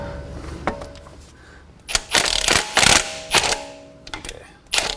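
A half-inch ratchet loosens the front strut bolts on a MKVII Volkswagen GTI in a garage, giving irregular bursts of sharp metallic clicking and clacking, close and fairly loud, with quieter pauses between strokes.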